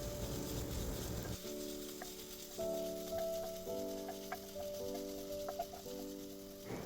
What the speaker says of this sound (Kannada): ಆನಿಯನ್ ಈಗ ಚೆನ್ನಾಗಿ ಫ್ರೈ ಆಗಿದೆ. ಇವಾಗ ಇದಕ್ಕೆ ಕಟ್ ಮಾಡಿ ಇಟ್ಕೊಂಡಿರುವ ಟೊಮೆಟೊನ ಆ್ಯಡ್ ಮಾಡೋಣ.